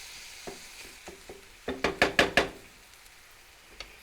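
Chopped onion frying in a pan for a cottage pie, a soft sizzle under a series of light scraping and knocking strokes from stirring, a louder burst of several quick scrapes in the middle, then quiet frying.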